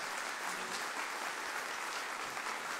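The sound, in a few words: church congregation applause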